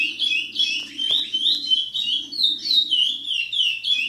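A caged curió, the chestnut-bellied seed finch, sings close and loud, repeating bright whistled phrases in quick bursts over a low background murmur.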